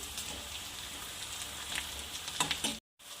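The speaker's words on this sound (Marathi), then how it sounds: "कांदा बारीक कट केलेला कांदा छान ब्राऊन कलर होऊ द्यायचा आहे" Finely chopped onion frying in a pan, a steady close sizzle and crackle with small spitting pops near the end and a brief break in sound.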